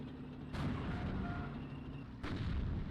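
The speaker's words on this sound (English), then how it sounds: "Howitzer shooting at the tanks here." Howitzer artillery fire against tanks in a strategy video game, two sharp booming blasts about two seconds apart, the second shot louder, over a steady low battlefield rumble.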